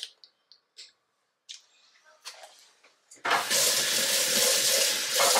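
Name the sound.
running tap water washing a dropper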